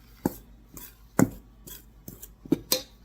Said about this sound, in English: And we'll mix this up, pre-mix this up before we even take it to the mixer.